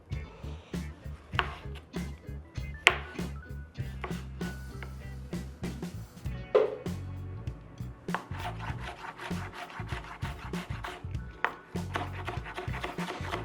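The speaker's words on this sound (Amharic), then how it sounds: "ቲማቲም መክተፍ ነው። ቲማቲም እንዲዘጋጅ" Tomatoes being chopped with a knife on a wooden board while a soup is prepared, a steady run of close, dry knocking strokes with some rubbing scrapes, no talking.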